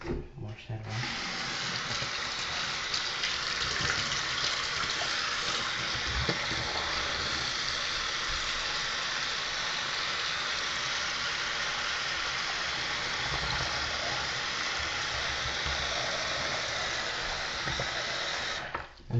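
Tap water runs steadily to rinse soap off game console parts during cleaning, a loud continuous broadband rush that lasts the whole stretch and stops sharply at the end.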